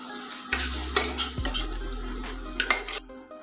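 Potatoes frying in oil in a pan, with a steady sizzle and a few scrapes and clinks of a stirring utensil against the pan, close and alone with no voices.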